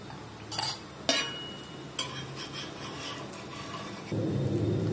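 A dosa cooks in oil on a pan, giving a soft sizzle with a few faint metallic scrapes and taps, then a slightly louder frying hiss near the end.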